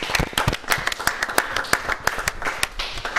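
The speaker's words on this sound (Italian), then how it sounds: "fatemi un applauso." Sparse audience applause on an Italian cycling television programme, scattered individual claps with uneven rhythm, moderately close, with no talk over it.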